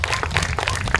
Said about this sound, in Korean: 이럴 때는 박수를 좀 쳐주시면 대단히 감사하겠습니다